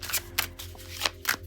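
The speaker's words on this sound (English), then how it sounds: "Give it one more shuffle, see if anything wants to come out." A deck of tarot cards being shuffled by hand, several quick riffling bursts in an uneven rhythm, close and fairly quiet over a faint steady hum.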